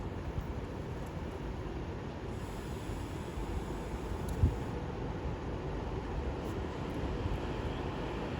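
Class 390 electric train arriving at Watford Junction, a steady low rumble that holds at an even level throughout, with one faint thump partway through, heard from the platform.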